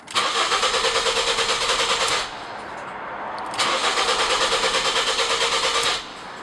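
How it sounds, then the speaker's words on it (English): Engine of a 2004 Ford Focus ZTW cranking on the starter while its fuel system is run dry, two bursts of rapid rhythmic cranking with a short pause between, close and steady, with no talk. "we're going to turn on the ignition and we're just going to let the system run out of fuel"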